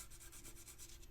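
Steady, fast back-and-forth rubbing of sandpaper smoothing a cast resin model of a Xenomorph Queen's mouth, a faint, close scratchy rasp in an even rhythm with no voices.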